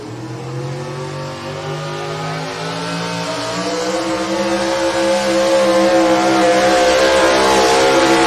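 A Ford dirt-track race car engine revs hard and builds steadily in pitch and loudness, close and loud, with no talk over it.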